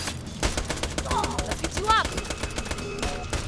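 Rapid automatic gunfire in Borderlands 2 crackles in dense bursts alongside game music and effects, loud and continuous, with people talking over it.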